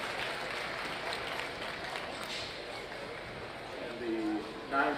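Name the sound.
applause for lambs at a market lamb show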